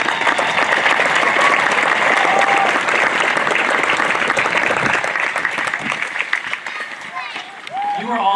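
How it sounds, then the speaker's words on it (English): Audience applause fills a school graduation ceremony, dense and loud for about six seconds before thinning out, with a voice starting to speak near the end. "I'd like to give her a round of applause for all she did for the students, faculty, staff, and parents here at the school"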